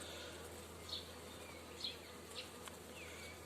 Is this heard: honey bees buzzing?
yes